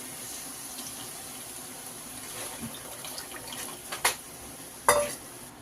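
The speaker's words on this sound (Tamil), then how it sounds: "இப்போ நம்ம புளி தண்ணி ஊற்றிக்கலாம் தேவையானதுக்கு." Tamarind water is poured into a simmering fish sambar masala in a pan, a soft steady trickle that builds toward a couple of sharper splashes near the end, close by and without speech.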